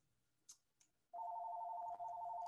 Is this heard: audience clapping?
no